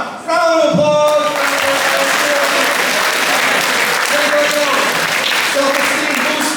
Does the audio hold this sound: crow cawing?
no